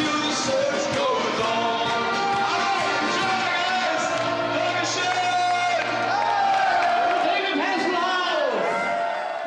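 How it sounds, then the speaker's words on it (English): A packed pub crowd cheers David Hasselhoff in a dense, sustained roar of voices with shouts and whoops. It stays loud and continuous throughout, and a talking voice runs through it. "they're cheering him to the rafters"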